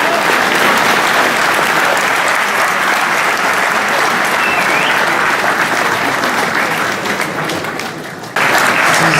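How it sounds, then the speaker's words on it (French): Loud, sustained applause from the audience at a chess tournament closing ceremony in Nancy in 2013, honoring the referees. The clapping is thick and continuous, then briefly thins before surging again near the end. "un grand applaudissement pour tous les arbitres"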